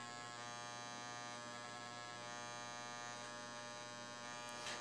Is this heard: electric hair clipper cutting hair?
yes